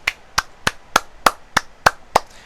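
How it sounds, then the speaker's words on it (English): Nine sharp hand claps in a steady, even rhythm, close and crisp, with nothing else heard between them. "I'm currently giving him a round of applause because he managed to catch the ball"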